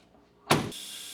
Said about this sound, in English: Just grind the actual shape into it here so it's nice and comfortable when you hold it